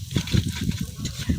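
Onions sautéing in leftover tofu-frying oil, with a steady close sizzle and repeated stirring scrapes in a rhythmic pattern.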